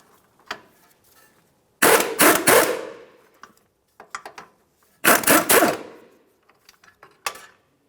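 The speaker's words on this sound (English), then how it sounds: "Let's use an 18mm to remove this nut." Metallic ratcheting bursts from an 18mm socket loosening the upper ball joint nut on a 2002-2005 Ford Explorer during control arm work, with two long clicking runs and a few short taps between them.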